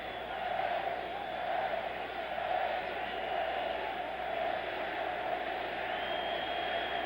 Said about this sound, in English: The crowd here is getting a little anxious.